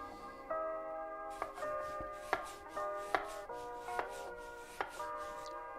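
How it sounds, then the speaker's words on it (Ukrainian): Several knife chops strike a board at an uneven, unhurried pace, cutting boiled carrot, each a crisp close knock with a faint ringing tone behind. "Так само нарізаємо відварену морквину."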